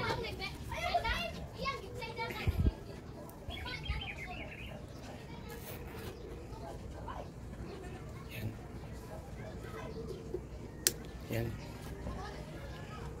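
Children play noisily nearby, a busy jumble of shouting and chattering young voices with occasional bird chirps, continuous throughout.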